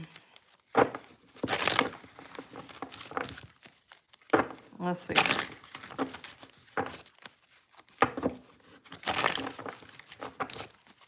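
Tarot cards are shuffled by hand for a reading, giving repeated crisp riffling bursts and soft slaps in several rounds, close up, with someone speaking quietly between them.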